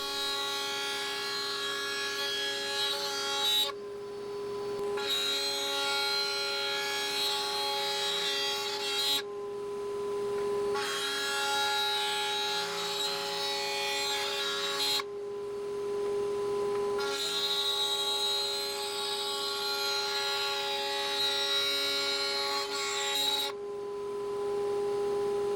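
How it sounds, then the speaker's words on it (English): A router table fitted with a 1/4 inch spiral bit cuts grooves in wood for cabinet panels. A loud, close, high-pitched whine with a steady motor hum rises to a harsher cutting roar during each pass, with several brief quieter gaps between passes. "Setting up a 1/4 inch spiral router bit in the router table makes this a quick and easy task."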